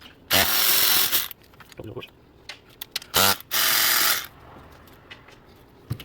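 A ratchet or power tool removes bolts on a 1997 Jeep Grand Cherokee 4.0 during fuel injector work, two loud buzzing bursts about a second long with small clicks between, while someone talks.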